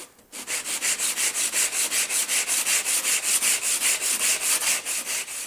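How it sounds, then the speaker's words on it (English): Rapid, steady back-and-forth scraping of 100 grit sandpaper rubbed by hand over the rusted blade of a Stanley block plane, close and even in rhythm with about four strokes per second and no talking. "Sand off most of the big surface rust with this 100 grit sandpaper,"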